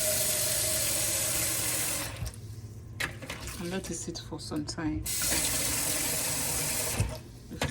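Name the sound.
warm water running from a tap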